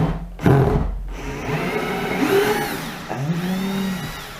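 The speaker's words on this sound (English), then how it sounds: "This drill can't do 4 mil diameter screws." A cordless drill drives 4 mm high-performance woodscrews into timber, its motor whirring and rising in pitch through several bursts, loud and close.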